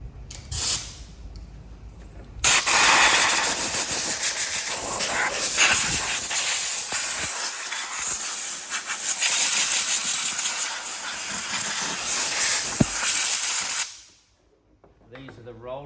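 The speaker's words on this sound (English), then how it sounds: "I'm going to get my air blower out" Compressed air blower cleaning out a Fronius welder, a loud continuous hiss of air blasting steadily for about eleven seconds after a brief short puff, then cutting off abruptly into near silence.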